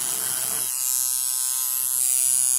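A YT-10 electric hair trimmer buzzes steadily nearby, a tonal motor hum that starts up after a short noisy moment and keeps running.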